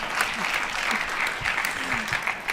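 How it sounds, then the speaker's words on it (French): An audience at an aeronautics round-table discussion applauds with a dense, steady clapping that holds for the whole moment, and a voice is faintly heard underneath. "Moi, je pense qu'on peut applaudir Marianne Cochenek."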